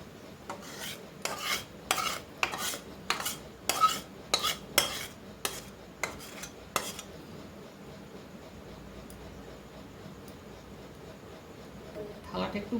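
A metal spoon scrapes and taps rhythmically against an oiled metal plate as thick mango jelly is poured and spread, about a dozen evenly spaced strokes up close, followed by quieter background hiss.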